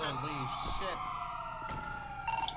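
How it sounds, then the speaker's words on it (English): A police siren in GTA V (FiveM roleplay) wails in rising and falling tones, with electronic chirps and short bursts layered over it, loud and close. "Cut the sirens!"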